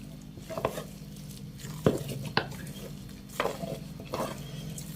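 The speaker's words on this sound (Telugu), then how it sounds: "చల్లబడకుండా త్వరగా ఫాస్ట్గా తిప్పేసుకోవాలి" Ragi sangati is stirred briskly with a wooden ladle in a pot braced against a wall, with soft scraping and scattered knocks of the paddle against the pot, close and fairly quiet, no talking.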